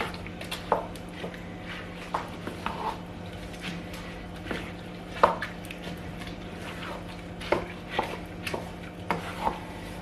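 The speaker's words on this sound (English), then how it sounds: "I'm going to be stirring it a bit" Vegetable and chicken coconut rice is stirred in a pot with a spoon, giving soft scraping and occasional sharp clinks against the metal over a steady low background hum, fairly quiet throughout.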